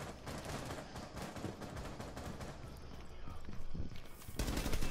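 Gunshots from a Rainbow Six Siege match crack in a dense, rapid series of sharp reports throughout, growing louder toward the end, with faint voices underneath.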